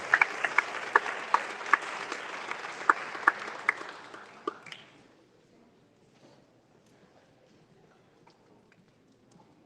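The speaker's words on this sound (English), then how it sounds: "Let's give them a round of applause." Applause for county executive debate candidates in a senior center hall: scattered, fairly close claps with a few sharp standouts for about four seconds, then fading quickly into quiet room tone.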